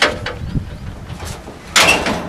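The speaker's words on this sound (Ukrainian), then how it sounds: "Тоді закриваємо капот." A car hood is shut during a driving lesson after an engine oil check: faint handling noises, then one loud, close slam near the end.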